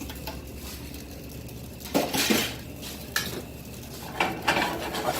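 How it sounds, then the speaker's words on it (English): Utensil stirring butter sauce in a metal pan while cooking steak, soft scraping with a few sharper clinks and taps against the pan at intervals, fairly quiet and without talk. "I stir my sauce until the butter melts."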